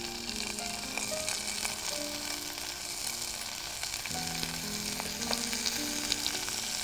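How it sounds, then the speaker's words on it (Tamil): Spinach greens fry in hot oil, giving a dense, continuous crackling sizzle that stays steady and close for several seconds, with faint tonal hums in the background and no speech. "இந்த எண்ணெய் சூடான பிறகு நம்ம இந்த கீரை சேர்க்கணும்"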